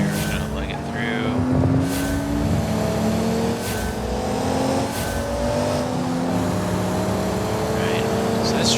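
A turbocharged ETK car engine in the BeamNG racing game drones loud and steady, its revs climbing and holding through gear changes with a continuous whining hum that lasts throughout.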